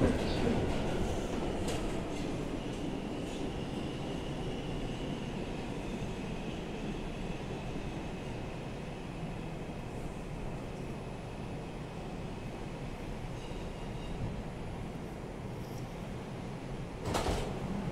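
Inside a moving R142 subway car on a Manhattan-bound 2 train: a steady, rumbling roar with rattles and clanks throughout, and a sharper knock near the end.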